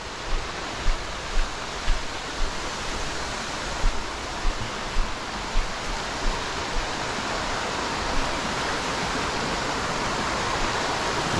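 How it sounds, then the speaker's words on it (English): A waterfall pours steadily in a constant broadband roar of rushing water, loud and close, filling the scene without any speech. "I don't know if I can talk that much because the noise of the water probably."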